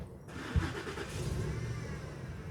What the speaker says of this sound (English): One of the neighbors trying to start his truck.